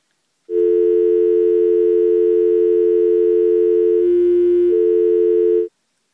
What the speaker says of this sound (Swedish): Jag vill ringa till min geografilärare här, Björn.